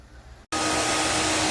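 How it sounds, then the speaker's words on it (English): A robot vacuum and mop combo switches on after a brief silence, its motor and suction settling into a loud, steady broadband whir that runs without a break. "This vacuum has a low setting,"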